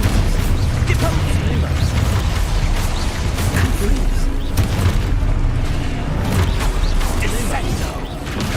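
Expulso spell blasts from Hogwarts Legacy gameplay, booming explosive bursts layered over dense game effects and a constant low rumble, loud and busy throughout.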